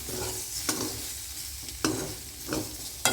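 Eggs frying in a pan with a steady, close sizzle, broken by several sharp scrapes or taps of a utensil at irregular intervals; no voices.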